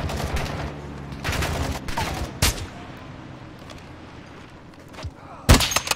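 Gunfire in the Call of Duty DMZ video game: a handful of sharp, loud shots and short bursts scattered across the span, the last blast near the end the loudest, with a steady game background beneath.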